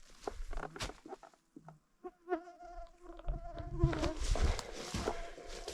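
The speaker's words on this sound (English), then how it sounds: "Can you hear the mosquitoes?" Mosquitoes whine around a cabin in Alaska after rain, thin buzzing tones drifting close to the ear amid scattered taps and rustles, with a louder rumbling patch near the end.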